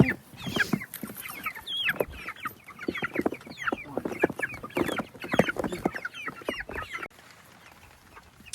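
Several young meat chickens cluck and chatter nearby on grass, overlapping busy calls that continue for several seconds before dropping to quiet near the end.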